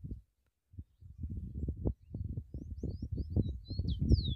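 A rufous-collared sparrow sings from a hand-held cage, its brief high chirps sitting faintly above steady nearby talk and handling noise.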